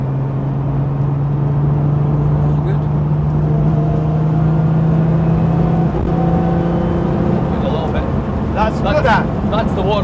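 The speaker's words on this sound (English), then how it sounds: "That's the water injection coming in." A Mk1 Ford Escort engine drones steadily at close range, its tone shifting briefly with a stuttering change near the end as water injection kicks in, while people talk over it.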